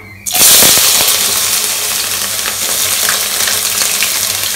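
Carrots drop into hot oil with bay leaves, cardamom, cinnamon and cloves, bursting into a loud, sudden sizzle that settles into steady, crackling frying.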